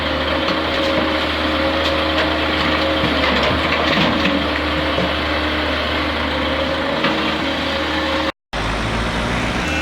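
A truck engine runs steadily at a demolition site while it is loaded with rubble, a continuous loud rumble with a brief dropout near the end.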